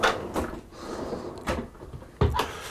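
Cutlery drawer on a Hanse 460 yacht sliding open and shut, giving several short, sharp knocks and thuds spread over a few seconds, fairly close, with no talking.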